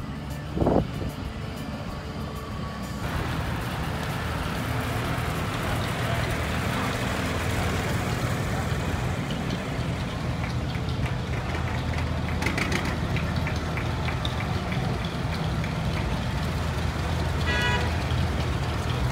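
Tractors and vehicles roll past in a parade through downtown Quitaque, Texas, during the Bison Festival, with a steady loud engine rumble throughout, a brief horn-like toot near the start and crowd voices mixed in.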